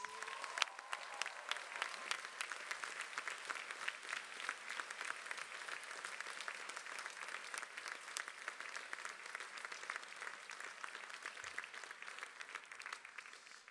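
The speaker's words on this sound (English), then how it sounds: "a round of applause for the family and friends" A large audience at a University of Sussex graduation ceremony claps for graduates' family and friends, sustained applause heard at moderate distance with no talk over it.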